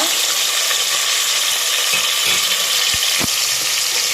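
Chopped tomatoes sizzle steadily in a hot pan for tomato rasam rice, a loud continuous frying hiss with a few stirring knocks and clinks.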